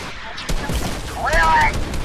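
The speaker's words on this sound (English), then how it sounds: "stop shooting. Stop shooting." Gunfire in the Fortnite video game, a string of sharp shots under a player's voice and game effects, close and fairly loud over about two seconds.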